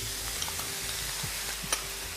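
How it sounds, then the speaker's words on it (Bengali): Mixed sauces poured into a hot pan with spring onion produce a soft, low sizzle with occasional faint scrapes and clicks, fairly quiet throughout. "এবার আপনি এখন সসগুলো যে মিশিয়ে রেখেছিলাম সেটা ঢেলে দেব।"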